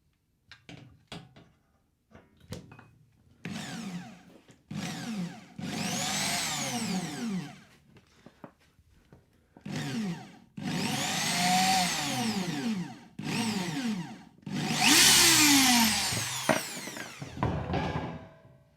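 A drill whines in repeated bursts of several seconds, its blunt bit grinding through a cracked cymbal with bright ringing shimmer, separated by short pauses and clicks.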